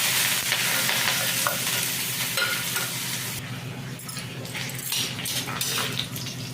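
Spices tempering in hot oil for a potato curry, a steady loud sizzle and frying hiss with stirring scrapes running throughout, easing slightly toward the end.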